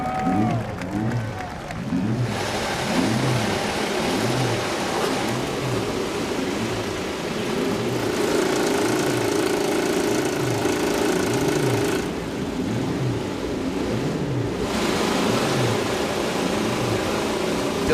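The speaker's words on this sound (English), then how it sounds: "Drivers, start your engines!" Several IndyCar race car engines fire up and rev together at a Detroit street race, a loud, steady multi-engine roar with rhythmic rising and falling revs, crowd noise mixed in beneath.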